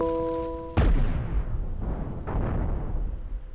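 Ship cannon fire in the Cosmoteer space game: an abrupt loud boom cuts off a steady tone, followed by a rumbling decay and a second, softer blast about a second and a half later, with no talking.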